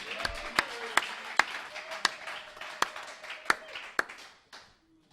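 Sparse, evenly spaced claps ring out in a church hall during a French-language sermon, sharp isolated hits rather than full applause, with a faint sustained tone beneath.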